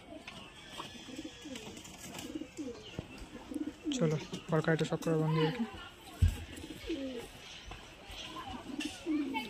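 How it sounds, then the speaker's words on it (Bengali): Long-size pigeons cooing in a loft, soft throaty coos scattered through the clip beneath someone speaking close by. "সব লং সাইজের পায়রা।"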